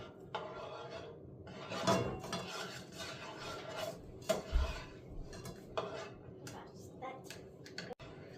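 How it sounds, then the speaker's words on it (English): A spatula scrapes and pushes food around a pan on the stove, with irregular close scraping and clinks of utensil on metal and a sharper knock near the end. "now use your spatula and push everything around"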